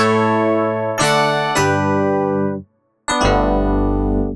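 Plain, dry 80s-style synthesizer electric piano chords struck one after another, clear and direct, with a brief silence before a final sustained chord.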